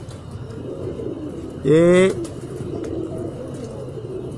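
A single short pigeon coo rises briefly above a steady outdoor murmur of background noise, with a person speaking faintly.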